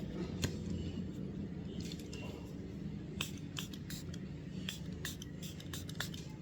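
Setting mist sprayed during makeup, a string of short, crisp hissing bursts in quick succession over a quiet room.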